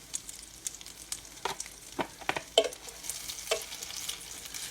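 Zucchini pancakes deep frying in hot oil, a steady close sizzle and crackle broken by occasional sharper pops and light scraping of a utensil in the pan.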